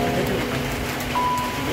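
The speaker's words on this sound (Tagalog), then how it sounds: "Ulan po ngayon." Rain falls steadily on a cement surface outside a home kitchen, a dense constant patter that fills the whole moment with no letup, with a faint bird cooing somewhere in the background.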